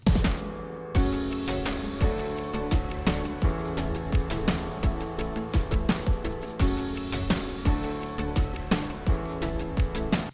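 Dense layered synthesizers play a full, steady chorus with punchy beats and sustained pads, loud and continuous with no voices.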